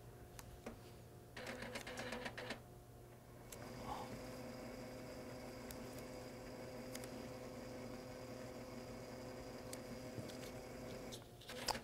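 A Sawgrass Virtuoso SG800 dye-sublimation printer charges ink from its cartridges into the tubes, whirring and humming mechanically with bursts of rapid clicking and ticking. The sound is faint but continuous.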